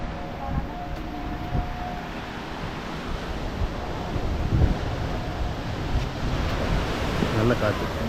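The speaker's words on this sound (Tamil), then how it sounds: "நல்ல காற்று" Steady wind blows across a rocky seaside fort on the coast, a broad continuous rush with surf-like texture, fairly loud, with a faint voice briefly in the background.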